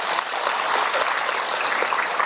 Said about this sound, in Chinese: 请给自己鼓掌一下